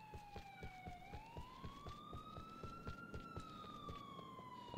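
A police car siren in Grand Theft Auto IV wails in long rising and falling sweeps, fairly distant. A steady rhythmic thumping runs underneath it.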